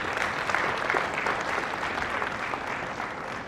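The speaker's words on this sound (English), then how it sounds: "And a huge applause for Rishi and the team." Steady, dense audience applause fills a convention keynote hall, loud and continuous with no talking over it.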